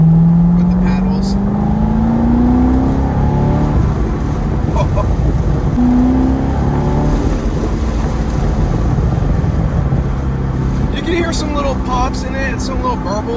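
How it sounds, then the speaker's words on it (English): Stock exhaust of a Chevrolet C6 Corvette burbling with valves open, a loud continuous low rumble with wind buffeting and pitch swells, captured close from inside or beside the moving car. "Some little burbles. Yeah, and that is the stock exhaust, by the way."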